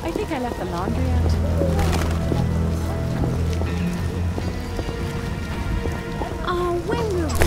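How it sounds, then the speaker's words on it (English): Steady rain falls in The Witcher video game, a constant hiss of drops with scattered soft clip-clop and tonal game sounds layered over it, continuous and fairly loud. "Oh, when will this rain stop?"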